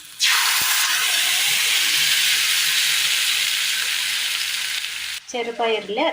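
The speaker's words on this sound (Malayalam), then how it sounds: "ഇനി നമ്മൾ അരച്ചു കൊണ്ടുവന്ന ചെറുപയർ ഒഴിച്ചു കൊടുക്കുകയാണ്" Ground green gram poured into a hot pan for a Kerala curry bursts into a loud, steady sizzle lasting about five seconds, then a voice briefly speaks as the hissing stops.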